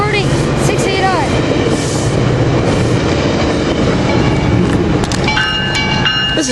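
A passenger train that includes a bicycle car rolls past at a Fullerton railroad days event, giving a loud continuous rumble with rhythmic clickety-clack of wheels and a few squealing tones near the end.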